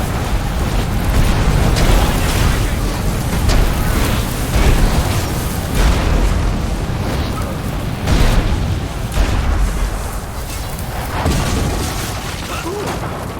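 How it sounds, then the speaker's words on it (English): Catapults in Ryse: Son of Rome launch and detonate in a palace courtyard battle, heavy booms and explosive bursts rolling one after another over a dense, roaring wall of combat noise. "Catapults! Fire!"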